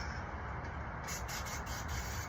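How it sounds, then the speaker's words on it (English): Brake cleaner sprayed from a can onto a Honda NX650 Dominator motorcycle fuel tank, a steady close hiss lasting a couple of seconds with a few short pulses near the end. "that's just a bit of brake cleaner"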